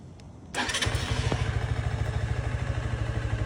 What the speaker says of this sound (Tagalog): ganito yung kanyang tunog pag in-start